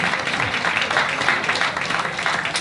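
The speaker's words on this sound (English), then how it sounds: "Let's give them another big round of applause" A crowd applauds steadily, many hands clapping together in a dense, continuous patter that holds at an even level throughout.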